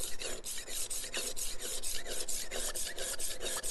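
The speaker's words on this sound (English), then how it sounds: "But it is grinding an edge onto this knife." Steady, gritty scraping and rasping as the coarse end of a rolling knife sharpener grinds a knife edge, with rhythmic strokes repeating quickly and evenly, close up and continuous, no talking.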